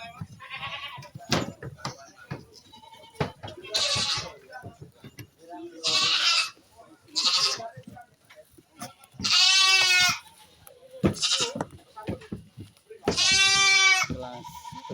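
Crossbreed goats at a goat contest in an animal market bleat loudly and repeatedly, several long wavering calls overlapping with a busy crowd and an announcer talking throughout.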